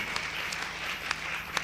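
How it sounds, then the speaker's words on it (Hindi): An audience at a Hindi poetry recital bursts into brief, dense applause, a steady crackle of many hands clapping together at close range. "तो फिर सबकी तालियां एक साथ उठाइए"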